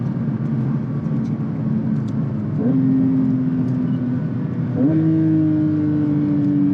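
A Porsche 911 GT3 Touring drives with a loud, continuous engine drone on wet asphalt, its pitch stepping up twice as it shifts and pulls, close and steady throughout.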